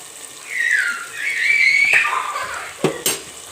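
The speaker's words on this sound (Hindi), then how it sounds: "ये आप देख सकते हैं हमारा चिकन भी तकरीबन फ्राई हो गया है।" Boiled, bone-in chicken frying in a pot gives a soft sizzle under squeaky, gliding scrapes of a spoon against the metal, ending with a couple of quick clinks and knocks.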